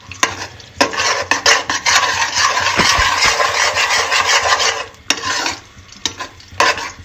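A spoon stirs halwa frying in a pan, scraping steadily with a continuous sizzling rasp, broken by brief scraping strokes at the start and near the end.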